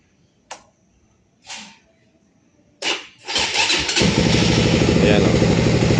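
A Hybrid DNA RFX motorcycle engine is cranked with a few short bursts, then catches and settles into a loud, steady idle close by.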